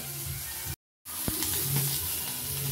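Fish fries slowly in uncovered oil in a home kitchen, giving a soft, continuous sizzle with gentle crackles. The sound breaks off briefly and then resumes.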